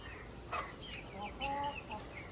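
Soft, short clucks from Aseel chickens sound close by, a few scattered calls over quiet background hiss.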